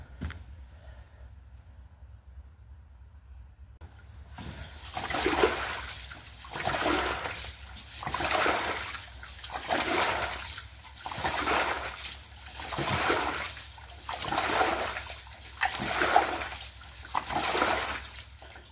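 Water is scooped or pumped out of a house's sewer drain pipe during a check valve installation, a quiet pause giving way to rhythmic sloshing and splashing surges repeating roughly every two seconds, close and steady.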